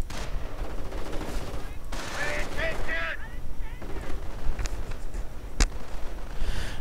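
Machine gun fire in a video game battle with stormtroopers, bursts of gunshots scattered under a commentator's voice, with a sharp loud crack near the end.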